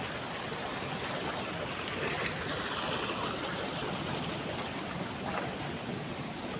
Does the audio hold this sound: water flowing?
yes